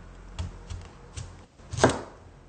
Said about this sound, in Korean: 이 무는요 5cm 내지 7cm로 썰으면 됩니다